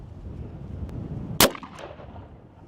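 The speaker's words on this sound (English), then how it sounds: "Firing. All right, let's see what it can do. Shoot it already" .357 revolver fired at a tree outdoors, a single sharp crack partway through that stands out against a low background rumble, with a short ringing tail after it.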